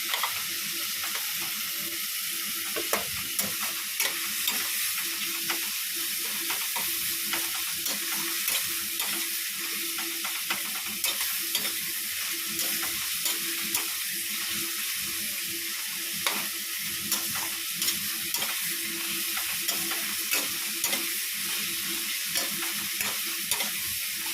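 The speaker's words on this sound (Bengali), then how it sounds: "এই ফোড়ন দিয়ে পেঁয়াজটা টমেটোটা ভাজতে বসে দিয়েছি" Onion and tomato fry in oil with whole spice tempering and salt, a steady close sizzle broken by frequent rhythmic scrapes of a spoon stirring in the pan, with no talking.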